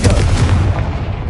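A Confringo spell explosion from the Hogwarts Legacy video game lands with a loud, deep booming burst that rolls off over about a second, without speech.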